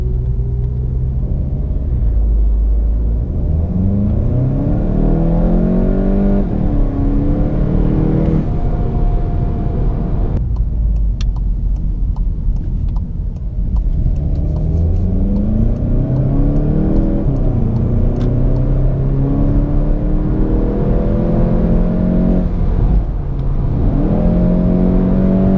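A 2019 Volkswagen GTI Rabbit Edition in sport mode accelerating hard, the engine note climbing through repeated gear pulls with loud rumbling and brief dips between shifts, no voices.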